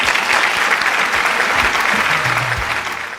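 A studio audience on a student quiz show gives a contestant loud, dense applause that holds steady for about three seconds before tapering slightly at the end.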